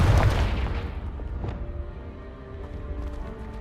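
Confringo blasting spell in Hogwarts Legacy blows apart a pile of debris, a deep boom at the start that rumbles and fades into clattering echoes, heard alone.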